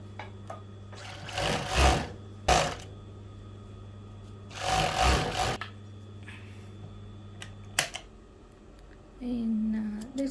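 An overlock sewing machine stitches a fleece jogger waistband in two loud bursts of rapid whirring, with quiet handling sounds and a short clack between them and a faint hum near the end.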